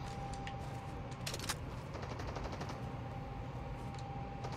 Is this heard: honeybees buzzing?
no